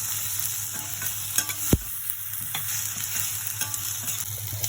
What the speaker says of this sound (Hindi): 2 मिनट तक मुझे इस तरह से फ्राई करना है।